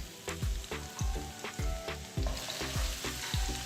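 Crushed ginger and garlic hit hot oil in a pan, giving a close, bright sizzle with a rapid series of rhythmic scraping stirs about twice a second, loud and continuous, no speech.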